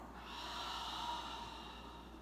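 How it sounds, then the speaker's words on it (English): A deep breath drawn in through the nose, then let out through an open mouth in a soft, close, airy exhale during a quiet yoga session. "Take a big breath in through your nose. And open mouth exhale."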